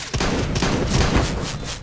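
Rapid gunfire crackles through a shooter video game, sniper and shotgun blasts stacking into a dense, loud burst of shots lasting under two seconds.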